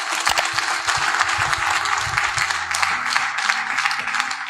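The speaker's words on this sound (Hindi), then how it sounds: "मैं चाहता हूं एक जोरदार ताली हमारे सारे किसानों के लिए होनी चाहिए" An audience gives a burst of loud, sustained applause for farmers at an agriculture awareness event, many hands clapping together at close range with a faint voice underneath.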